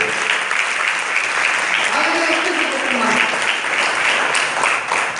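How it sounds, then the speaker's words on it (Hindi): A seated audience claps steadily at an award ceremony in Rewa, a dense, even wash of applause holding at one level, with a voice briefly heard beneath the clapping. "जोरदार तालियां"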